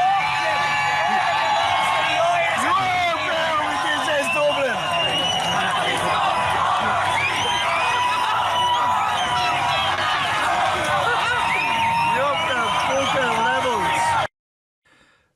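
A large, dense crowd of protesters shouts, whoops and cheers continuously at an outdoor demonstration, loud and close, with overlapping voices throughout before an abrupt cutoff near the end.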